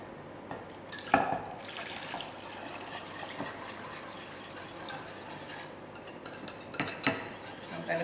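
A spoon stirs custard milk in a pan over low heat, giving soft, faint scraping and liquid swishes with a couple of sharper clinks against the pan.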